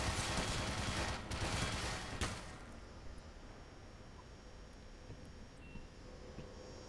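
Bursts of turret gunfire in the video game Black Mesa, a loud rattling volley in the first two seconds, then fading to a faint, low background hum with a few soft electronic beeps.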